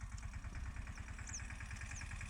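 A tractor engine brought in for onion farm work idles with a steady, low, rhythmic chugging that stays fairly close and even throughout, with no voices.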